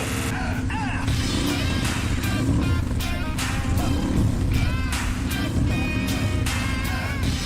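A 1000cc turbocharged side-by-side at an off-road racing championship revs hard near 8,000 RPM, a loud, continuous engine roar with repeated rising and falling pulls, mixed with crowd and speech in the background.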